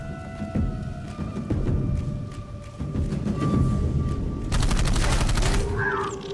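Gunfire in the Xbox 360 game Dark Void: scattered shots give way to a rapid burst of automatic fire against a rumbling ambient background.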